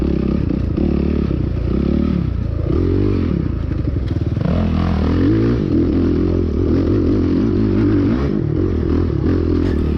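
A 450 motorcycle races a GP cross-country event, its engine loud and close, revving up and down through shifting pitch amid clattering, scraping and thumps over rough terrain.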